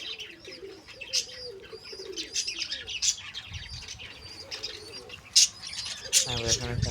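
A grey pigeon coos softly amid chirps and other bird calls, with faint scattered knocks and a brief low rumble near the end.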